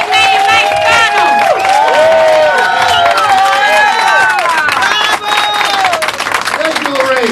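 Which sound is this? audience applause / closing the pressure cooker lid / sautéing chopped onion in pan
audience applause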